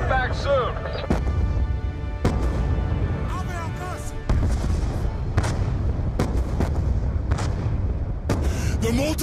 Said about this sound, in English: The mortars have stopped!